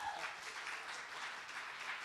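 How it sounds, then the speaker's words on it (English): Audience applause at a meet-up event, a soft, steady patter of many hands clapping, fairly faint and continuous throughout. "So big round of applause to Greek Street Food."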